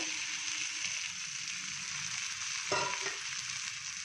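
Ginger and a ground mint, coriander and green chili chutney going into pulao in a hot pan, giving a dense, steady close sizzle with one brief stirring scrape partway through.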